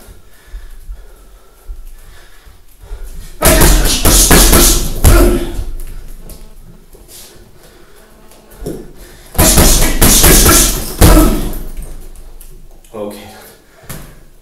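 Two bursts of hard, rapid punches and kicks on a heavy bag, each a quick flurry of thuds lasting a second or two, separated by quieter pauses.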